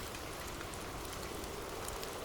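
Steady rain falls in a dense, even hiss of countless drops, continuous and unchanging throughout with no voices or other sounds.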